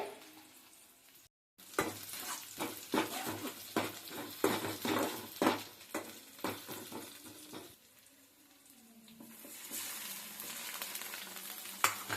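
Tomatoes fry in a pan with steady sizzling, broken by a quick run of rhythmic stirring scrapes and clinks of a spoon against the pan, then a softer continuous hiss.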